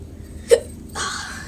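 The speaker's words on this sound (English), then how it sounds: "I have the hiccups." A single short hiccup from a person taking a break while flintknapping stone, sharp and close, followed by quiet rustling handling noise.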